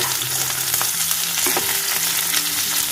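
Cauliflower florets go into a pan of lightly fried potato and pumpkin, giving a steady, even sizzle of oil with small stirring scrapes, close and continuous, with no talk.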